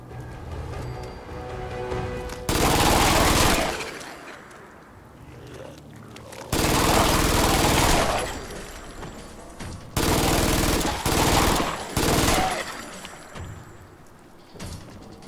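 Sustained bursts of rapid automatic gunfire in Fallout 4, three long loud volleys with short pauses between them, each a dense rattling roar, followed by a few shorter bursts near the end.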